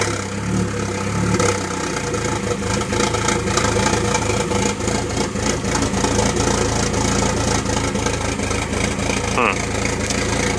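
A Volkswagen MK4 Jetta with the 2.0 engine runs just after starting, a steady close mid-pitched idle with a slightly uneven, rough edge that holds for the whole stretch.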